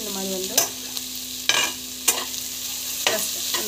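Green chillies and onions sautéed in a pan for biryani, with a steady low sizzle and four sharp spatula scrapes and stirs spaced about a second apart.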